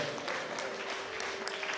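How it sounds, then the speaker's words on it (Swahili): A church congregation claps for Jesus in a diffuse, steady wash of applause, moderately loud, with a faint sustained hum underneath. "Tupe Bwana Yesu makofi ya juu na tuseme amen."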